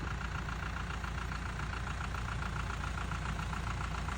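A farm vehicle's engine chugs steadily in low gear while fertilizer is spread through a watermelon field, a continuous near drone with a low rhythmic knock and no talk.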